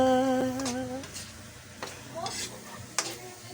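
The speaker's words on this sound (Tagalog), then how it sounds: "Pag inamoy, tumatalsik ang mantika." Hot cooking oil crackles and spatters in a pan, a steady sizzle with sharp pops and a scrape of stirring, starting under a brief tonal hum then continuing alone.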